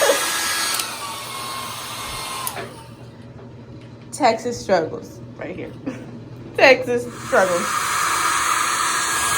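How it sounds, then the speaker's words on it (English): A blow dryer runs on ice from an ice machine during a Texas snowstorm, giving a loud, steady rushing hiss for a couple of seconds before it drops to a quieter hum beneath a person talking. "I'm currently trying to milk the ice. Hold on. With the blow dryer."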